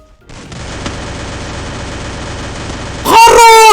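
Rapid gunfire rattles steadily in a battle royale style video game, a dense, loud stream of shots with no pauses, ending under a sudden burst of louder sound.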